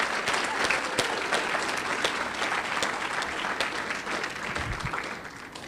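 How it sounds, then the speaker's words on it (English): At an adult education graduation ceremony, the audience gives a sustained round of applause for the graduates, steady crowd clapping filling the hall for several seconds before tapering slightly. "So just take a moment to applaud all of you."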